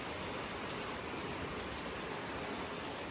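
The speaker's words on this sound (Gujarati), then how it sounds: "ફૂલ ચાલુ થઈ ગયો વરસાદ તો" Heavy rain falls steadily with wind, a dense, even hiss that holds at the same level from start to finish, with no voices.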